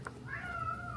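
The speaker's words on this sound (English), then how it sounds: "That was my cat." A single short cat meow, fairly faint, against quiet indoor background noise.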